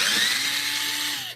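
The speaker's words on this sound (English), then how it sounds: "This is a cheap Harbor Freight drill that I use only for my wood turning projects." A cheap Harbor Freight cordless power drill, used for wood turning, whirs at high speed in one close, loud burst that winds down and stops after about a second.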